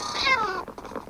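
Cats meowing in the video game Good Craft, one long drawn-out meow that slides downward, followed by a few shorter, fainter mews, with no talking.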